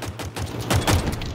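A Halo pistol fires a quick couple of sharp shots in a short burst, punchy and close amid the noise of a multiplayer match.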